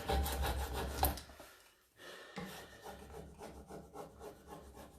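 A large six-piece furniture transfer is rubbed down onto a wooden surface, producing a close, steady scraping rub that pauses briefly partway and then resumes in shorter strokes.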